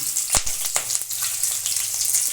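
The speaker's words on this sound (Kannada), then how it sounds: "ಇವಾಗ ಕಡಲೆಬೇಳೆ ಸ್ವಲ್ಪ ಫ್ರೈ ಆಗಿದೆ ಚೆನ್ನಾಗಿ ಫ್ರೈ ಆಗಿದೆ" Chana dal sizzles steadily in hot oil in a pan, a loud, close, continuous crackling hiss with a few sharper pops and stirring scrapes and no talking.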